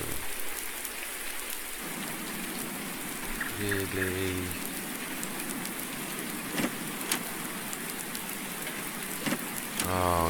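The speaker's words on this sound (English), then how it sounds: "They've got the rain sound and there's no rain." Steady rain ambience from the video game Farming Simulator 19, a constant dense patter running throughout with a few brief in-game tones and clicks, while a person briefly speaks over it.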